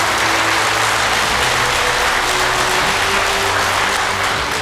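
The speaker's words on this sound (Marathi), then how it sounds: "त्या सगळ्या डॉक्टर देवांच्यासाठी एकदा जोरात टाळ्या वाजवा" A large audience at a kidney day event applauds the doctors loudly and steadily, a dense unbroken roar of clapping with no talk.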